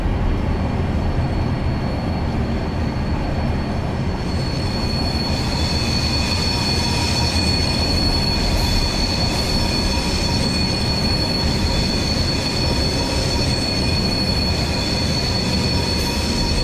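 In the video game Train Simulator 2018, a four-car passenger train rumbles steadily along the track with continuous rolling noise and faint high-pitched wheel squeal, loud and close throughout.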